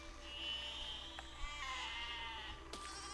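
Sheep bleat in the physics video game Besiege, a few drawn-out, wavering calls at moderate volume over a steady background rumble, with a sharp knock near the end.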